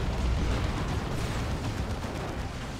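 A looted tank is destroyed in Dawn of War 2, a dense, rumbling explosion with crackling debris that stays loud and continuous before slowly easing off.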